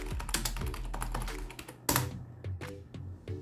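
Keys clatter on a computer keyboard as DiskPart commands are entered to set up a USB flash drive as a Windows installer, a quick run of close, crisp keystrokes with short pauses.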